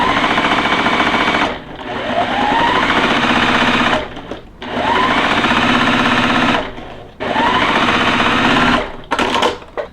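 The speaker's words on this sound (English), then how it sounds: "so now we are going to sew right on the line and then we'll trim it" Sewing machine stitching fabric along a drawn line for a quilt block, running in three steady bursts of rapid, even whirring separated by short pauses.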